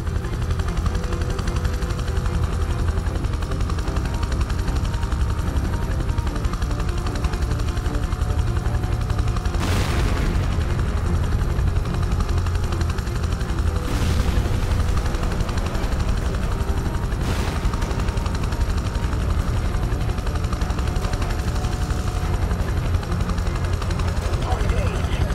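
Helicopter rotor noise from a landing on a helipad in the video game Prototype 2, a steady loud whirring drone that lasts throughout, mixed with game sounds and occasional sharp bursts.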